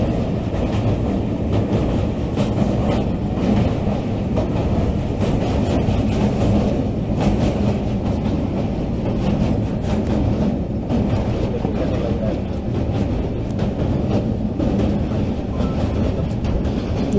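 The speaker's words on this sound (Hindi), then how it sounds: "जब वहाँ गंगा नदी पर बने पुल से ट्रेन गुजरती है" Train rolling across the railway bridge over the Ganges at Prayagraj during the Kumbh Mela, a continuous loud rumble with rhythmic clatter of wheels throughout.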